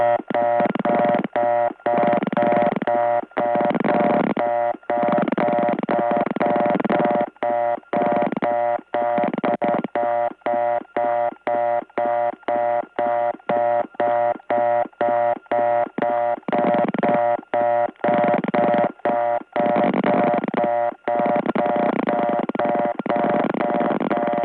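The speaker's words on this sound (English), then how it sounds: "The reorder tone actually gets softer when someone comes in" A rapid, repeating telephone reorder tone from a 1979 step-by-step tandem exchange in Gainesville, Georgia pulses on and off in a fast steady rhythm, loud and electronic, with no talking over it.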